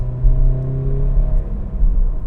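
A car with a manual transmission, held in third gear, holds a steady engine drone with a low rumble and faint humming overtones, fairly close and with no talking.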